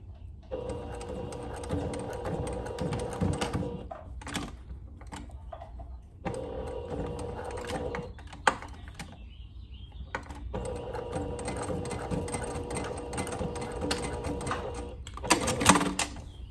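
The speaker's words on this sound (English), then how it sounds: "you're just going to sew a little diagonal" A sewing machine stitches a short diagonal line on a plaid shirt, running in steady whirring bursts with brief pauses between, close and clear.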